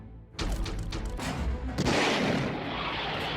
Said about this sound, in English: And in the hail of gunfire